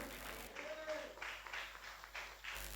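A church congregation claps loudly during a Hindi-language sermon, producing a dense, sustained wash of applause in a reverberant hall with bursts rising and falling.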